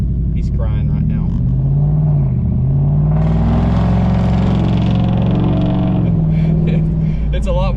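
A Ford Coyote engine revs hard through a new, louder exhaust, swelling to a sustained roar for a few seconds and then dropping back to a choppy idle, close by with people talking over it.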